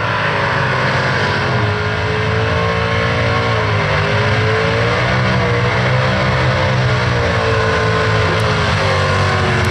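Drag racing cars at a nostalgia drag meet at Townsville Dragway, a Mustang against a Camaro, roar loud and continuous down the strip, with rising and wavering engine tones as they accelerate.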